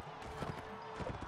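Horse hooves clip-clop briefly in the medieval battle game Mount & Blade: Warband, a quick muffled patter of a few steps set against background game noise.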